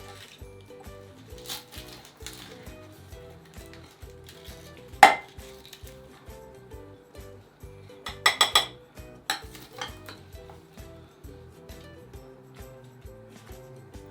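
Clinks and scrapes of a serving spoon against a dish of baked beef, cheese and spinach pie, with a couple of sharp crackly crunches of crust, over a steady low background hum.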